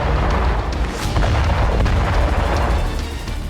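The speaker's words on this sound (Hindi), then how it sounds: "ईरान की गैस पाइपलाइन पर कुछ इस तरह से विस्फोट हुआ।" An explosion on an Iranian gas pipeline: a loud, sustained roar of rumbling blasts with sharp cracks and pops layered over a heavy low boom.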